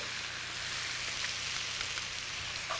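Chopped shallot and steak tips sautéing with portobello mushroom in a pan, a steady close hiss and crackle of sizzling that runs evenly throughout.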